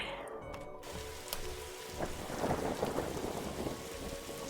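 Steady rain drums on a rooftop in The Darkside Detective video game, with a thunder rumble building in the second half. The wash of rainfall is continuous and close, and no one speaks.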